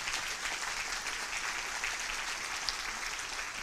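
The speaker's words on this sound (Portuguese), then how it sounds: "Vamos dar uma salva de palmas ao Senhor pela vida do pastor Luciano." Church congregation applauding, a steady dense patter of many hands clapping at even loudness throughout, with no talk over it.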